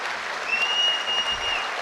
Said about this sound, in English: Please give everyone a big round of applause.